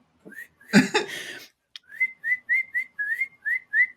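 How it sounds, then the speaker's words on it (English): A person whistles short, bird-like chirps in quick repeated bursts, close to the microphone, after a brief burst of other noise at the start. "Just making a little bird whistle ASMR content."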